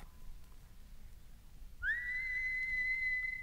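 A single clear whistle rises sharply and then holds a steady high pitch for over a second, alone against a quiet background hum.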